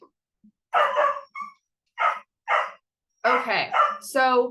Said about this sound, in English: I'm sorry if you guys hear my puppy barking